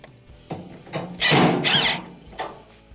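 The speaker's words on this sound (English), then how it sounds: "We'll go around and reinstall our screws." Power screwdriver reinstalling screws on an LG dryer heating assembly: a few short whirring bursts around a longer, louder central run of grinding drive noise, close by with metallic rattles between.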